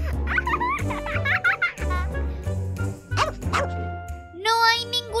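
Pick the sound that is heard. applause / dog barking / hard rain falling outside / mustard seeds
dog barking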